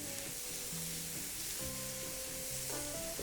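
Bean sprouts sizzle steadily in a hot pan while being stirred, a constant close frying hiss with faint scraping and some tonal background hum throughout.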